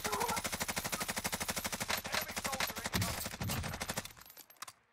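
Rapid automatic fire from the Bruin machine gun in a first-person shooter, loud and close, a steady burst of shots running about four seconds before cutting off.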